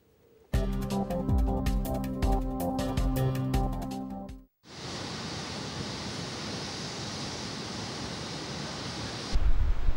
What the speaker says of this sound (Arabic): أصبحت الأمواج تضرب المنازل المحاذية وتهدد أساساتها